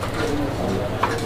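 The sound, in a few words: pigeon cooing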